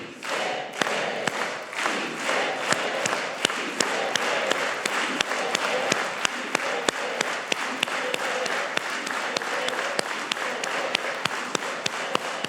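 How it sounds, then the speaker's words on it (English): Conference breakfast audience clapping in unison, a steady run of sharp, evenly spaced claps over a general crowd din, loud and close throughout. "let's do it with an organized hand clap, everybody"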